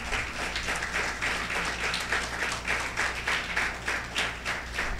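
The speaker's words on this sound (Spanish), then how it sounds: "Den un aplauso al Señor por eso" Church congregation applauding during a Spanish-language sermon, a steady wash of many hands clapping with a low hum beneath, sustained and fairly loud for the whole stretch.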